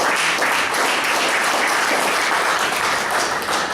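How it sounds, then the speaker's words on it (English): An audience at a meeting's evaluation session claps continuously, a dense, even wash of applause that holds at full level for a few seconds. "Let's give a round of applause to Jose Paul"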